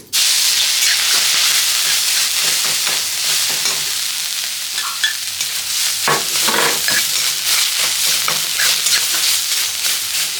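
Dry chilli, ginger, green chilli and panch phoron spices sizzling in hot oil for singara filling, a loud steady hiss and crackle with occasional stirring scrapes.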